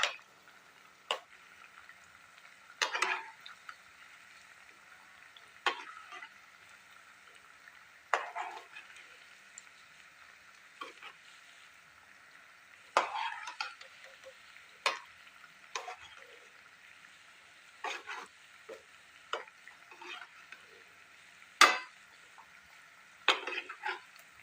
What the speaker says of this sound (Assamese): এইদৰে কম জুইত ভাজিব লাগিব।